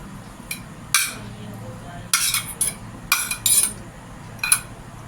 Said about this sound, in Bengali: তো এইটাতে আগে আমি আলু সেদ্ধটা দিই।